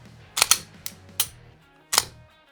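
Pistol slide let go and snapping forward into battery during a recoil spring function check: several sharp metallic clacks, close and loud with gaps between them, and a final crisp slam near the end.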